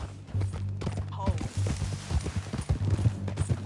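Steady clip-clop of horse hooves close by in the video game Red Dead Redemption 2, with talking over the rhythmic footfalls and a low background hum.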